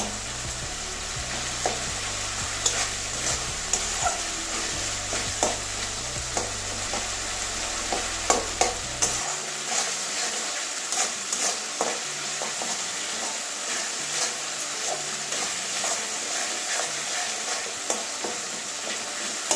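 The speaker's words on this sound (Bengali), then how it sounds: "টমেটোটা নরম হয়ে গেছে, গলে যাচ্ছে। একটু খুন্তি দিয়ে চাপ দিলেই সব গলে যাবে।" Soft tomatoes cook down in a pan for a Bengali katla fish curry, a spatula pressing and stirring them in repeated scraping strokes over a steady close sizzle, with a low hum that drops away midway.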